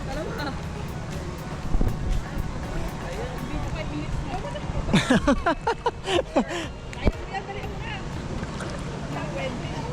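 Big waves churn on the Maramo River in Norzagaray, Bulacan, a rough rushing wash with wind buffeting the microphone and a boat rocking through it, while people shout and cheer over the noise.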